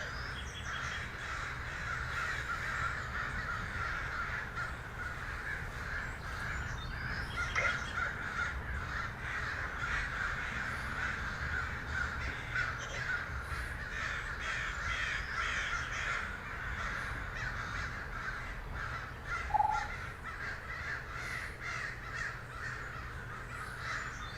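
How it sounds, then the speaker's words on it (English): Crows caw repeatedly against a steady outdoor background hum. The calls come irregularly throughout at moderate distance and are clearly audible, with no talking. "Can you hear the crows?"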